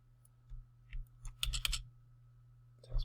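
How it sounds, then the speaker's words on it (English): Computer keyboard keys tapped while rigging a character's neck, head and eyes in 3D software, giving a few sparse, close clicks and one quick cluster of taps over a faint steady hum, with no voices. "Tap spacebar."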